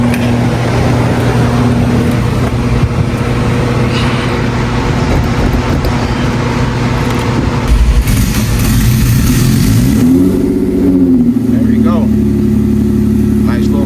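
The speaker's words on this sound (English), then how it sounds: "let's test out this cold start" A Haltech-tuned Audi engine turns over on a cold start and settles into a loud, steady idle. Near the end its pitch swells briefly before falling back, while people talk nearby.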